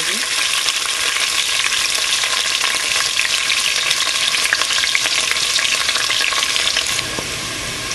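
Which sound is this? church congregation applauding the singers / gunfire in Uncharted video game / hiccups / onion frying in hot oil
onion frying in hot oil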